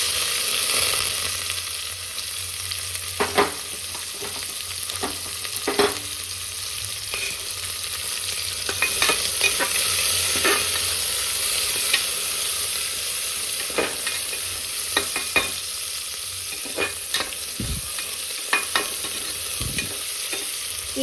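Spices sizzle in hot oil for a fenugreek-flavoured avarekal bath, a steady close hiss broken by sharp scrapes and taps of a stirring spoon, with no voices.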